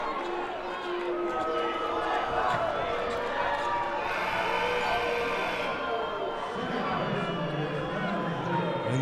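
At a Palomar College men's basketball game against Bakersfield, the home crowd roars in steady displeasure after a foul call, a dense wash of jeering and shouting under an announcer's commentary, with sneakers and court noise mixed in.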